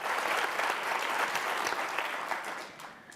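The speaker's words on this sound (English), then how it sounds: "that deserves some applause" Audience applause at a women's network conference panel, a dense, steady burst of many hands clapping together that holds strongly and then gradually fades toward the end.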